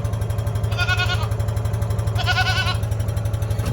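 A little goat bleats twice in wavering cries over the steady chug of a nearby engine running throughout.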